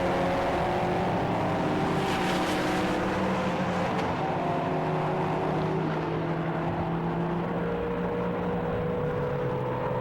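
Race cars including a Nissan and a Praga lapping in a Britcar endurance race, a dense, loud, continuous engine drone with several overlapping pitch lines that rise and fall as cars pass at a distance.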